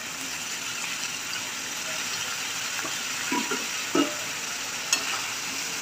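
Sambar masala with drumsticks, pumpkin and chopped tomato is stirred in a pan, making a soft, steady sizzle with a few light scraping clicks near the end.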